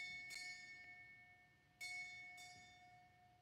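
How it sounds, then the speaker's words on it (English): Ship's bell rung at a US Navy retirement ceremony: struck in two pairs, with a quiet ringing tone between them and each strike decaying slowly, faint and at a distance. "Bell ringer, sound four bells."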